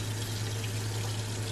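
A spoon is rinsed under a running kitchen tap, making a brief, steady, soft hiss of flowing water with no voices.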